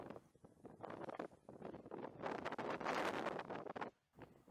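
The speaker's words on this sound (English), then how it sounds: "And that wind's blowing like a demon as well." Wind gusts buffet the microphone at an outdoor fishing pool, a loud rushing roar that swells and dips, with a brief lull near the end.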